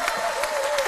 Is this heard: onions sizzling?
no